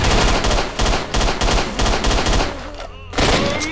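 Gunfire in the shooter game S.T.A.L.K.E.R.: Shadow of Chernobyl, loud rapid bursts of automatic shots close by in a steady rhythm, pausing briefly before another burst.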